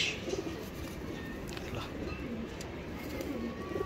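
Several pigeons coo in soft, repeated calls over a steady background hum, the cooing rising now and then from a flock of stray birds gathering outdoors in the sun.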